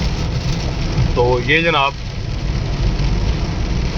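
Heavy stormy rain falls on the Sialkot motorway as cars pass, a constant loud rushing hiss with low road rumble, while someone speaks briefly near the middle.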